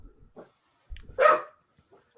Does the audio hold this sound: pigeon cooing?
no